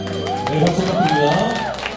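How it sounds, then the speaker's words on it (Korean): Wedding guests at a ceremony applaud and cheer, a loud crowd of clapping mixed with whoops and raised voices, while background music plays under the noise. "박수 부탁드립니다"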